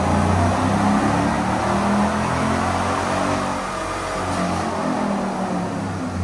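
A 5.3 Chevy Silverado engine fitted with a Jet Performance power module on a dyno, droning loud and steady with a strong harmonic growl that eases slightly partway through.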